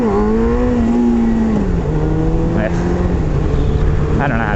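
A motorcycle engine revs on a quiet back road, a loud steady drone that dips and shifts pitch as the rider tries a wheelie, with wind noise over the microphone.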